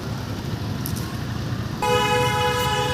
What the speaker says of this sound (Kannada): ಅಬ್ಬಬ್ಬಬ್ಬಾ ಹಾರನ್ ನೋಡಿ